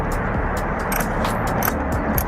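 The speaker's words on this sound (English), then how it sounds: "I took a little T20 attachment and I'm going to use that to take down this bolt" A ratcheting driver with a T20 bit backs a bolt out of a car during a dash cam hardwiring job, giving a close, loud series of rapid mechanical clicks.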